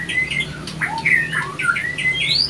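A white-rumped shama (murai batu) gives a run of sharp, whistled calls and squawks, rising and falling notes in quick bursts, clear and near over faint background hiss.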